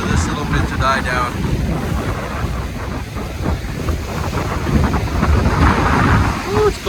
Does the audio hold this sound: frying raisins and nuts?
no